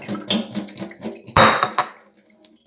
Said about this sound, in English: I'm just gonna pour the rice in there